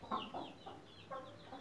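A recovering hen clucking in a few short, close, soft bursts with brief pauses between them, heard alone without talk.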